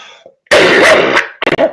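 A single harsh cough bursts out loud and close, followed a moment later by a short cluster of smaller coughs.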